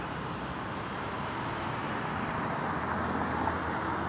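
Steady roar of street traffic with cars passing continuously, a constant broad rumble at moderate distance with no distinct individual pass-bys and some wind.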